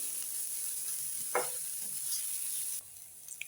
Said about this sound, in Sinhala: මේ ගාගත්ත පොල් ටිකක් දාලා මෙහෙම පොඩ්ඩක් කලවම් කරගන්න ඕනේ